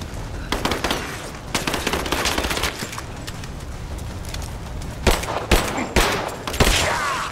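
Gunfire in Rise of the Tomb Raider, with rapid bursts of sharp shots throughout and a few louder close single cracks near the end.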